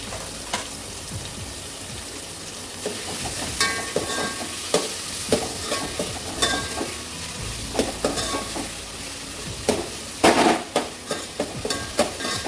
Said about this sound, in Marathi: दोन कांदे बारीक करून घेतले होते ते आता याच्यामध्ये टाकते